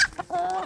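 Free-range village chickens give a few short clucks and a drawn-out cackle, close and clear, with no talking.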